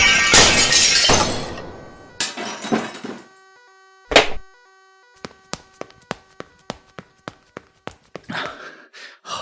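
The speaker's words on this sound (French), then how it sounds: "je vais tirer sur une fenêtre et je vais partir par là" Window glass bursts apart in a loud, long crash, followed by a second smash and a heavy thud, then a run of sparse tinkling shards falling and settling one by one, close and with no voices.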